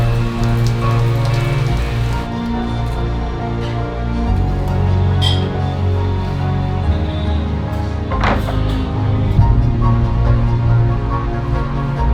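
Steady, loud rain pattering continuously on a surface outdoors, a dense hiss of drops with occasional heavier splats and no voices.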